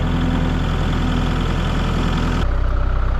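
A farm tractor engine runs at a steady, heavy idle with a deep low rumble and rhythmic throb, loud and close, shifting slightly near the end.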